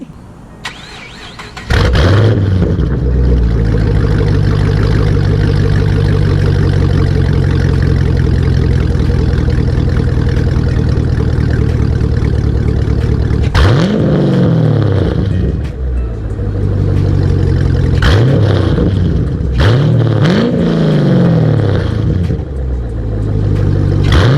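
A Camaro fitted with a costly aftermarket exhaust starts up and settles into a loud, rumbling idle, then gets several sharp revs in a row, each rising and falling back, heard close and alone.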